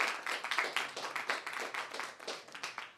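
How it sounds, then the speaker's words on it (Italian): Audience applause at a book presentation in a bookshop, a modest group clapping in a quick, uneven rhythm with individual claps standing out, close and fairly quiet. "Un applauso per Loredana D'Alfonso."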